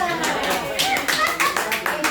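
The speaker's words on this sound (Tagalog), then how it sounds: "Palakpak!" A small group claps and taps their hands in a quick, uneven patter at a casual gathering, close by, with voices talking over the applause.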